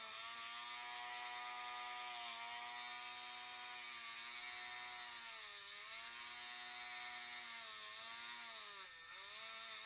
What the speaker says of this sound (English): We're gonna sand over